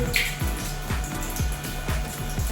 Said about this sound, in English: I'm going to go ahead and open up our little valve right here and bleed the rest of the water off of it